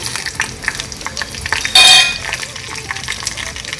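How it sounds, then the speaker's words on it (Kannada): Mustard seeds crackle and pop in hot oil for a tempering with dried red chillies, with scattered sharp spits, and one louder sizzling burst flares up briefly midway. "ಈಗ ಸಾಸಿವೆ ಸ್ವಲ್ಪ ಚಿಟಪಟ ಅನ್ನೋವರೆಗೂ ವೆಯ್ಟ್ ಮಾಡ್ಕೊಳ್ಳೋಣ"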